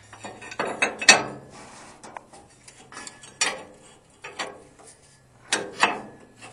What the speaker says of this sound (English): Now we can go ahead and put our bottom plate on and tighten up our U-bolts.